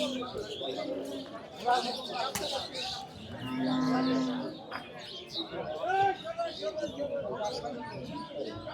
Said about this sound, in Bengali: এখানে দেখুন একটা বিশাল মহিষ মাসাল্লাহ চমৎকার চমৎকার মহিষ বিশাল দেহি দেহি মহিষ